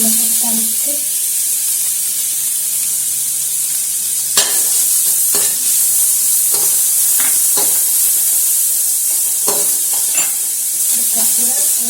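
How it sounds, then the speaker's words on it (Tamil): Chopped onions and garlic sauté in a pan for spicy Indian-style cheese pasta, a constant bright hiss of frying with scattered spoon knocks and scrapes, close and fairly loud. "வெட்டி வச்சிருக்கிற வெங்காயம் போட்டு வெங்காயம் பூண்டு ரெண்டும் வதங்கி"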